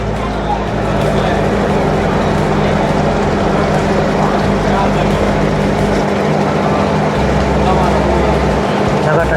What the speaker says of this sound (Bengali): একটা স্পিড বোট আসছে